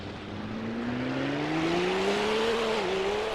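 Race car engine in the Assetto Corsa or rFactor 2 sim at Croft, pulling through a chicane in first gear; a loud, steady engine drone rising smoothly in pitch, dipping briefly near the end, with no talk.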